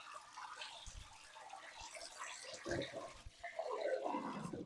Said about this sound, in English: I'm going to get a bowl of water and throw it in, or a couple of pint glasses of water